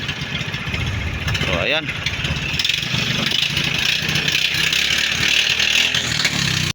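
A fishing boat's engine, recently reconditioned with new piston rings, idles with a steady, loud, rough drone throughout, while someone talks over it.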